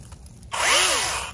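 A Vanpore mini chainsaw starts up suddenly and runs with a high, steady motor whine, its pitch sweeping up and down as it bites into yard debris, loud and close with no talking.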